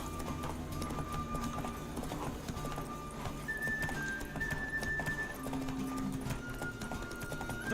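A horse gallops in The Witcher 3 video game, its hoofbeats rapid and steady throughout, close and fairly loud over a continuous bed of game music.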